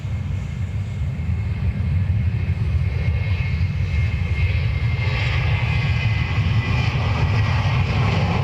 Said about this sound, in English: This is Amsterdam with the intersect departure.